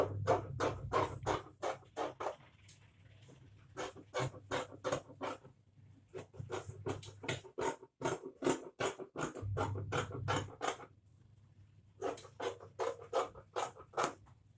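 Scissors cut through ankara fabric along an armhole pattern in a rapid series of close, crisp snips, with short pauses between runs of cuts.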